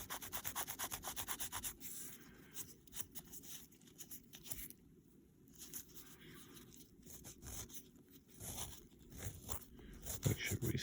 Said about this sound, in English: give this piece a nice little sanding.